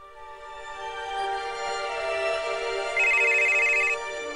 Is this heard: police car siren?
no